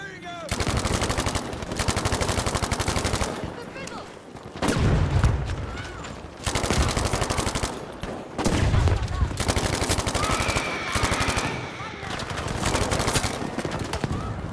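Rapid machine-gun fire in Battlefield 5, dense bursts of shots broken by short pauses, loud and close throughout with heavy low booms in places.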